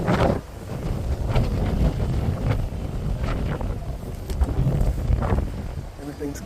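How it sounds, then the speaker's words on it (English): Strong wind roars across the empty upper deck of the cruise ship Oasis of the Seas, buffeting the microphone in loud, continuous gusts that rise and fall without a break. "this may be the breeziest of them all."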